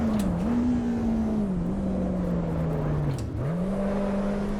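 A race car engine in the video game Assetto Corsa Evo drones loud and steady, its pitch sagging and rising through gear changes and a brief lift, with no talking.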